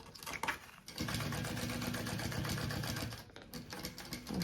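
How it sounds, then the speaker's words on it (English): A sewing machine back-stitches the corners of a Tiger Lily tote bag, running in one fast, steady, whirring burst of about two seconds with softer handling noises before and after. "I like to do quite a few back stitches right there at the corners."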